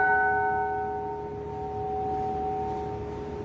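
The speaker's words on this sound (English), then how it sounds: "So we'll have a moment of silence with our bell tone." A sustained meditation bell tone rings in a church, a steady resonant hum with clear overtones that holds and slowly fades over a few seconds, with no voices.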